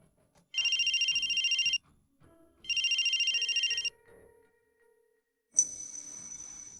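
A phone rings in two long electronic trills, then a brighter tone follows after a pause, clear and close against a quiet room with no talk.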